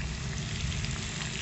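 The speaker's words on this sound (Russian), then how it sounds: "Жарится наша картошечка, мы ее помешиваем." Potatoes fry in a homemade saj pan set over a tandoor, giving a steady, dense sizzle with a low crackling undertone, close and continuous, with no voices.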